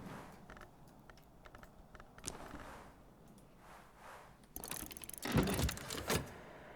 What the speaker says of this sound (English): We even have a wintry typewriter.